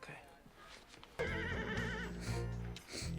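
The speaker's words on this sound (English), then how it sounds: "She's riding a horse." A horse in a TV show lets out a loud, close whinny after a quieter stretch of soft background sound, with hoof clip-clops and a voice briefly heard alongside.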